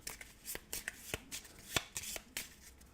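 Playing cards being shuffled in quick riffles and taps during a solo tabletop game, a close series of crisp, uneven bursts with no talking.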